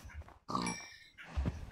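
A video game pig grunts in a few short nasal bursts, with a low snorting grunt at the end, fairly quiet and close with no talk over it.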